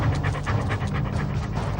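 A dog panting close by in quick, steady, breathy rhythm, each huff even and continuous, with no voices.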